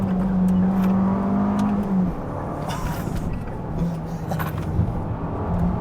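An Abarth Rivale pulls hard under acceleration, its loud, steady engine drone climbing, then breaking off at a gear change before rising again, with tyres scrabbling for traction.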